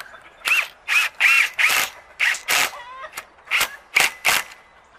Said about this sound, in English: So just put your drill right there.